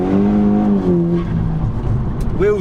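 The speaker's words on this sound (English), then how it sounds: "Wheels are just spinning, so as far as trying to put power down today, it ain't going to happen" An Edition 30 car with traction control switched off spins its wheels, the engine note rising and holding near and loud before dropping, with a short faint squeal near the end and no talk.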